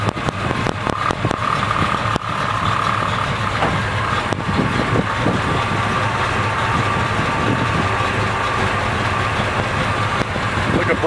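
A 1956 Chevy step-side pickup truck engine idles steadily and fairly loud nearby, a continuous rough rumble with faint knocks and rattles throughout.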